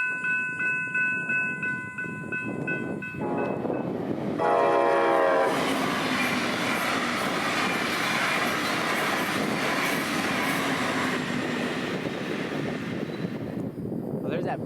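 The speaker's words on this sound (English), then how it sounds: "Brightline trains run by here every half hour, with the southbound flying past at 1:35 p.m. at 79 miles per hour" A Brightline passenger train in Fort Pierce, South Florida, sounds its horn in loud blasts, then roars past at about 79 mph with a sustained rushing rumble and wheel clatter that fades at the end.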